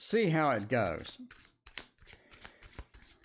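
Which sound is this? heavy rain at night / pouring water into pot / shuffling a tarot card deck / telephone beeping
shuffling a tarot card deck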